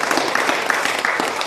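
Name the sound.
audience applause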